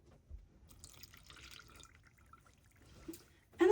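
Three-quarters of a cup of water poured into a bowl of baking soda while making ornament dough, a soft, close trickle and light splashing at low volume, ending in a brief louder splash.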